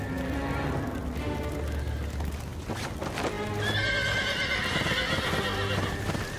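Horses whinny loudly over steady hoof clip-clops during a fire, with a busy, crowded commotion throughout and a few voices faintly in the mix.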